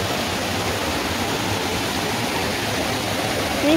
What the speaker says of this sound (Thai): นี่ค่ะน้ำตกที่เราเดินไปมาเมื่อกี้มันก็จะไหลมาทางนี้นะคะ